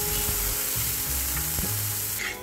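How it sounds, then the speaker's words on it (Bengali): Boiled, lightly salted potatoes fry in oil in a pan for an omelette, giving a steady close sizzle with a few soft stirring scrapes and no voices. "এখন এটাকে হালকা করে তেলের উপরে আর কি ভেজে নিব।"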